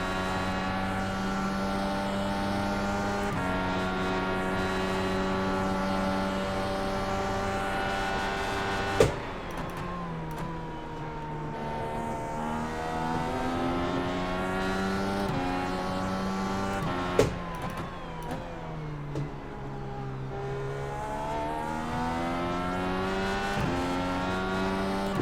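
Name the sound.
race car engine revving in video game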